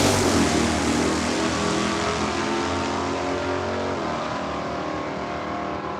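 Drag race cars, including a Dodge Super V and another Mopar, run at Saskatchewan International Raceway in Saskatoon, a loud sustained engine roar filling the whole clip and fading slowly as the cars pull away.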